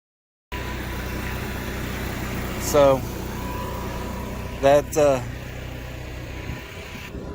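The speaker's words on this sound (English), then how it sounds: "So that generator with a missing exhaust pipe is a life safety issue." A generator missing its exhaust pipe runs with a steady engine drone that starts abruptly and continues to the end, interrupted by a few short bursts of speech.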